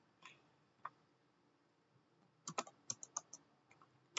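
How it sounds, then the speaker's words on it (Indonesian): Keys tapped on a computer keyboard to enter a Linux command, a few scattered soft clicks followed by a quick burst of keystrokes, close and quiet. "untuk langkah pertama kita ketik su"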